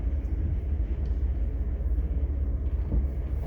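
A night sleeper train rumbles along with a low, steady, close vibration and rhythmic rolling hum heard from inside the carriage.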